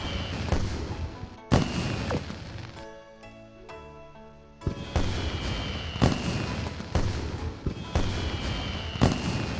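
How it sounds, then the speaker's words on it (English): Fireworks crackle and boom through game audio in Azur Lane, sharp bursts repeating in a steady irregular rhythm, with a short stretch of tonal music-like layering in the middle; no talking. "these fireworks in the background are so distracting"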